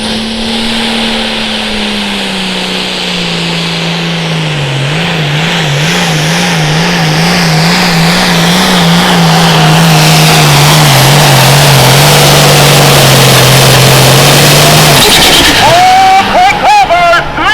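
An International farm tractor roars during a hot farm tractor pull in Cuba City, Wisconsin, its loud engine note droning and wavering as it climbs steadily in pitch and intensity over the run before bursting into sharp rev spikes near the end.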